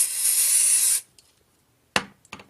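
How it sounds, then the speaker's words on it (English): A sustained hissing spray burst lasting about a second, followed by quiet with a few faint clicks and taps. "electronic contact cleaner spray to clean my board"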